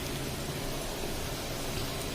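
Naan sizzles on a hot tawa as it fries golden, giving a steady, dense crackling hiss that holds at an even level throughout, with no voices.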